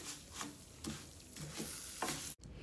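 Rice toasting in a pan for Mexican red rice gives a soft, steady sizzle, with rhythmic scrapes of a spoon stirring it every half second or so; faint and close, no talking.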